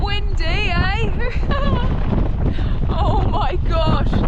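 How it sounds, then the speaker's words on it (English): Strong, steady wind after a big storm buffets the microphone with a constant low roar, while excited voices shout and talk over it throughout during mudlarking. "Bit windy, eh?"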